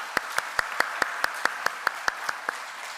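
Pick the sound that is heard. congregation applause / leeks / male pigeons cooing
congregation applause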